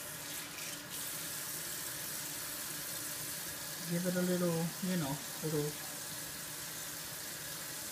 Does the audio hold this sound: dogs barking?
no